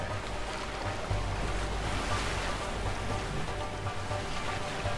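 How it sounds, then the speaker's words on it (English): Rushing water of a waterfall in the video game A Way Out, a steady broadband roar with low rumble filling the whole stretch without letup, no voices over it. "No, this is a waterfall."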